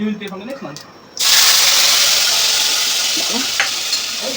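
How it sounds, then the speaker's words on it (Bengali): Whole cumin and spice paste drop into hot oil in a kadai and burst into a loud, steady sizzle, preceded by brief clattering and continuing alone as a bright hissing fry. "এই যে কড়াইতে তেল দিয়েছি এবার আমি দেবো গোটা জিরে গোটা জিরে দেওয়ার পর আমি মশলাটা ছেড়ে দেবো"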